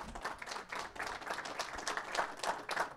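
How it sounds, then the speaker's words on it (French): Audience at a conference on innovation and new technologies applauding the speakers, with scattered, uneven clapping that swells and dips over about three seconds, fairly distant and modest in size. "On peut applaudir nos intervenants."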